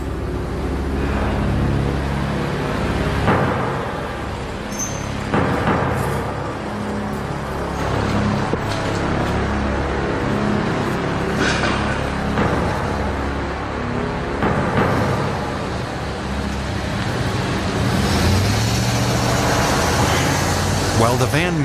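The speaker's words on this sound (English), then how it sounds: "A lot of cars going by" Cars go by in street traffic, a continuous roadway roar with several louder passing whooshes swelling and fading, while a voice talks throughout.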